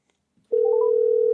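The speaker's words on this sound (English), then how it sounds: "Alright, my phone's ringing, so that's good." A phone call ringing out on the line, a short click then a steady sustained tone starting abruptly about halfway through, loud and close with no voice over it.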